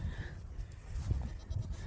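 Goats in a pen on a farm give faint, short bleats over a quiet, low background murmur, heard from some distance with no clear talking.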